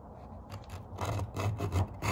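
A hand file rasping along a chainsaw chain, short faint scraping strokes that grow a little louder and quicker, with no talking.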